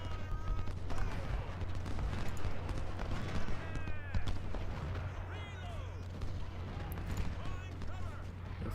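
Dense battlefield gunfire in Ultimate General: Civil War at Fredericksburg: continuous crackling musket volleys and booming artillery, with a low steady drone underneath and someone talking over the din.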